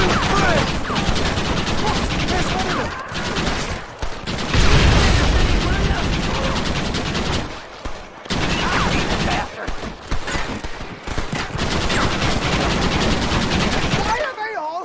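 Heavy gunfire rattles almost nonstop in a Red Dead Redemption shootout, rapid overlapping shots and bursts broken by a few brief pauses, loud and close, with voices shouting amid the fire.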